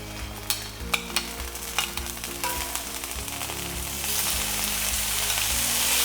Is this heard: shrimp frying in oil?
yes